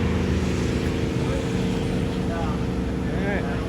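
A deep, steady engine rumble drones loudly and continuously, with a low throaty exhaust tone throughout, from a Dodge Charger Hellcat with a Borla ATAK aftermarket exhaust.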